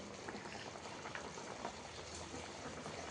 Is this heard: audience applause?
no